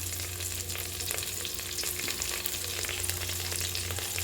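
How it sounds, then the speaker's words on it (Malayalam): Onions sautéing in a pan for cauliflower pulao, a steady soft sizzle with faint stirring scrapes, quiet and continuous with no talk. "ഇതെല്ലാം കൂടെ ഒന്ന് നമുക്ക് വഴറ്റിയെടുക്കാം"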